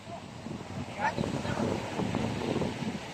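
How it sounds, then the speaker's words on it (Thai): Wind blows across Bang Saen beach in Chonburi past coconut trees on a morning of rising tide, a soft continuous rushing with gusty swells, faint and low with a brief voice-like trace. "ดูเสียงลมครับดูต้นมะพร้าว"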